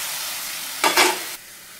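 Onion with turmeric and salt stirred in a frying pan, a brief scraping stir over a soft steady sizzle, close and short with no talking.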